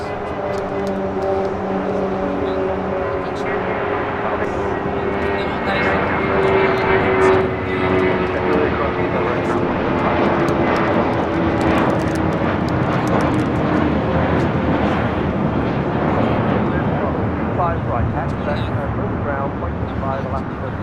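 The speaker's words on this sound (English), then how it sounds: "Viva Aerobus A321 taking off here on the south side." A Viva Aerobus A321 airliner takes off at LAX, its jet engines building into a loud, sustained roar with a drifting tonal whine that swells and holds over about twenty seconds.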